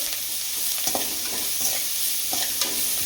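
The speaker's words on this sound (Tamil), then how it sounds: "நல்லா வெங்காயம் செவக்கட்டுங்க." Onions frying in a pan for fish puttu give a constant bright sizzle with a few scraping stirs, close and steady, and no one speaks.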